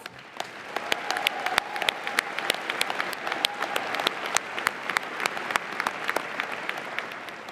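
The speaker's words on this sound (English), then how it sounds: "let's give them a round of applause" Large commencement audience applauding family members at a university graduation, broad sustained clapping with many distinct individual claps, moderately distant and filling the whole stretch.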